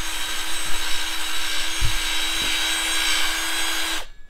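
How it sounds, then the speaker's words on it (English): Power drill fitted with a wheel brush, stripping powder coating from metal parts, runs as a steady loud whine with a continuous high buzz for about four seconds, then cuts off abruptly. "I just put a wheel brush on my drill"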